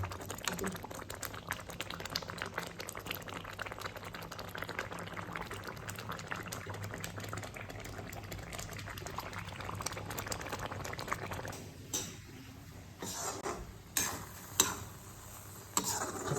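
Tamarind mixture for puliyotharai bubbles and thickens in a pan with a dense, continuous simmering crackle, and toward the end a few sharper pops and spoon knocks break through, close by.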